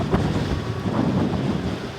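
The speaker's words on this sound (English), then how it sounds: "Oh, it's really windy." Wind buffets the microphone on a KBO Ranger cargo e-bike while riding, a loud close rumbling roar with gusty swells and no voice.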